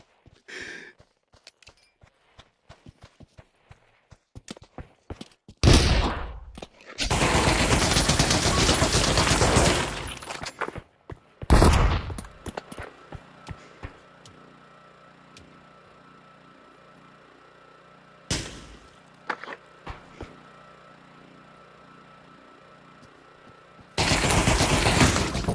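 Gunfire in the Pavlov shooting game: sparse single shots early on, then long loud bursts of automatic fire with quieter stretches of scattered shots between them.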